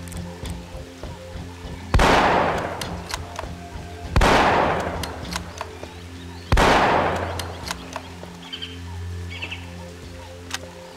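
Three loud, sharp rifle shots ring out about two seconds apart in the jungle warfare game Marine Sharpshooter 2. Each crack decays into a long echo, and faint ambient birdsong plays between them.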